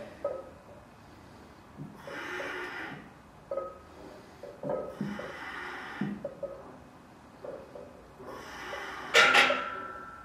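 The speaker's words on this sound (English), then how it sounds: "Breathe in as you come down, breathe out as you go up." Heavy, rhythmic breathing during a home workout exercise, with several loud close exhales and snorting breaths at a steady pace, the last one the strongest.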